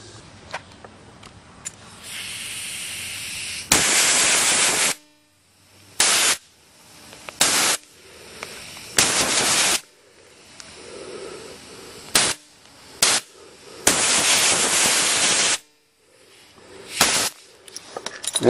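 Compressed air blasts through the passages of a 2-stroke weedeater carburetor in loud hissing bursts, some quick and sharp, others lasting a second or more, separated by quiet gaps.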